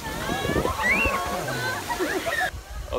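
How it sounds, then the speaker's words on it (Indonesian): The Pelangi waterfall at Sungai Lembing, Pahang, rushes steadily as a constant splashing roar, with people talking loudly over it close by. "Suasana air terjun Pelangi."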